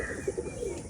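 Pigeons at a loft coo softly in a few short, low, pulsing notes, close by against a steady background hum.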